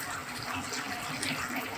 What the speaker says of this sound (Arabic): انا كده هزودها سنه ميه مغليه برضو